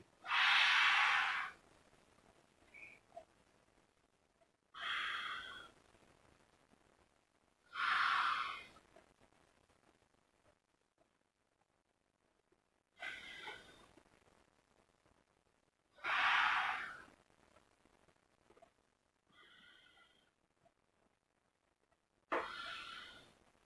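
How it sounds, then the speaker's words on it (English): Forceful exhales through one nostril in a nasal breathing exercise, repeated about every four seconds with short quiet pauses and softer breaths in between. "close your left nose and just exhale that breathing in right nose, just like this"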